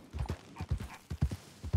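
Horse hooves clip-clop at a steady walking rhythm in the RedM roleplay video game, close and distinct, with no talk over them.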